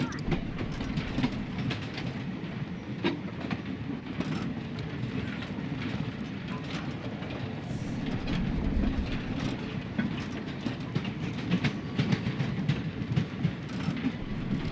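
A train in a video game runs on without stopping, a continuous rolling rumble with rhythmic clickety-clack of wheels on rails, steady and moderately loud throughout, no voices heard.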